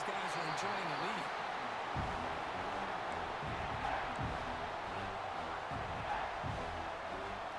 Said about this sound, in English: listen to this crowd noise